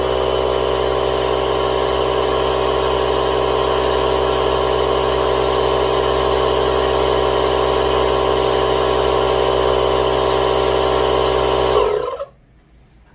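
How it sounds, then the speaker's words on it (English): Kobalt 120-volt air inflator compressor running loud and close, a steady droning motor hum with strong even buzz that continues unchanged for about twelve seconds before cutting off abruptly into quiet. "That's basically a quick look at the air compressor there and how loud that bugger is"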